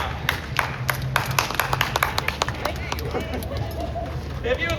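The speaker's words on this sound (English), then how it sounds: "If you would like to see the balls, clap now." A live street-show audience claps in a loose burst to vote during a juggling act with knives and a bowling ball, scattered hand claps over crowd murmur and outdoor noise.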